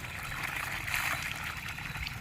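Water gushing steadily from the 2-inch delivery outlet of a solar-powered pump, a continuous splashing, hissing flow close by, with no talk over it.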